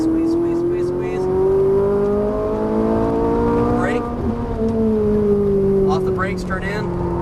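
A Ferrari 458 Italia V8 accelerates hard on a racetrack, its steady high-pitched engine note climbing and holding loud and close throughout, with an instructor's voice talking over it.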